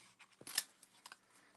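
Several quick snips of scissors cutting paper, close by, with crisp bursts clustered in the middle and softer cuts after.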